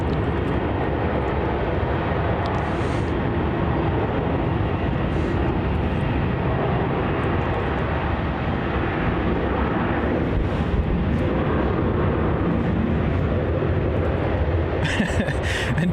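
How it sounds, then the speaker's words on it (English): A Virgin Australia airliner, VA219 bound for Adelaide, departs runway 27 at Melbourne Airport, its engines producing a continuous broad roar that stays loud and steady throughout, with no talk. "Departing off runway 27, we have VA219 off to Adelaide."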